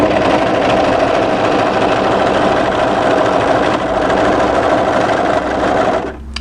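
An overlocker runs steadily along the edge of dress fabric, a loud, continuous rapid whirring stitch that carries on alone for several seconds and then stops.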